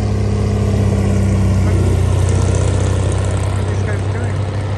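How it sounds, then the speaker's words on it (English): A low-flying propeller airplane buzzes overhead above a game reserve, its loud steady engine drone continuous throughout under wind noise. "got a plane just buzzing our zone here."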